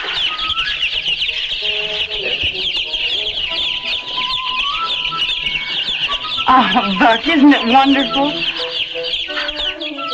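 A flock of chickens clucks and squawks continuously at a farm, with a dense, busy chorus that swells louder partway through, while someone speaks briefly over the birds.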